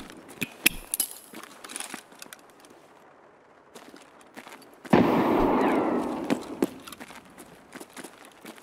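A grenade blows up in the Escape From Tarkov shooter game, a sudden loud boom with a rumbling tail that fades over a couple of seconds. Scattered clicks and footsteps come before it.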